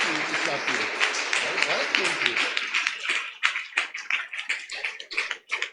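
Applause from a church congregation during a family service, a dense wash of clapping at first that thins into scattered, distinct claps, with voices talking over it.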